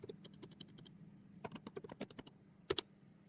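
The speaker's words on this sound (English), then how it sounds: "Let's type make install." A computer keyboard rattles off a short command during a software build-and-install session, with quick clicks in two bursts and a heavier final keystroke like an Enter press, nearby and quiet, with no voices.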